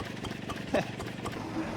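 A slow, steady chugging of a restored 1926 Lister BK single-cylinder stationary engine running on paraffin, idling nearby at an agricultural show, with a faint murmur of voices in the background.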